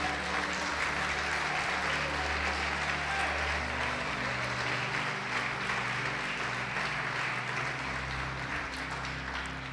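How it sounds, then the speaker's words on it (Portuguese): Church congregation applauding during a worship service, steady dense clapping that fills the whole stretch at an even level with no voices standing out. "Você pode aplaudi-lo e glorificá-lo?"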